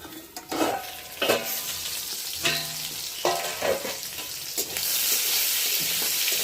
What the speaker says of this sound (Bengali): সুন্দর লাল লাল ভাজা হয়ে গেছে